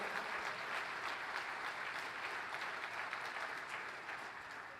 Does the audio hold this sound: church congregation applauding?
yes